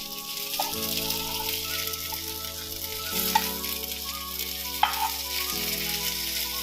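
Bangude mackerel fry on a tava with a constant soft sizzle and scattered small pops and spits, heard close and alone.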